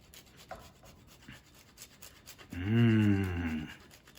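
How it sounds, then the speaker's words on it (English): Parmesan cheese is grated with a microplane, giving soft, faint rasping strokes, then a loud sustained low hum-like tone for about a second. "Just gonna grate it here with my microplane."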